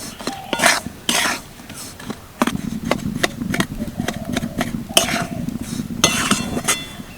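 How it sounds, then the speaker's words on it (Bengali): Powdered sugar being mixed into milk powder for laddu, with a spoon scraping and clinking against a bowl in uneven bursts, close by, along with a cough or throat clearing. "এবার দিয়ে দিচ্ছি হাফ কাপ চিনির গুঁড়ো ভালো করে মিশিয়ে নেব"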